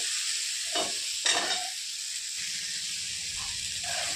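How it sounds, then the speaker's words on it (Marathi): Green beans and potatoes sautéing in hot oil give a loud, continuous close-up sizzling hiss. A couple of quick stirring scrapes come early on, and the frying then settles into a steady crackle. "एक 2 मिनिटं छान परतून घेणार आहोत आपण"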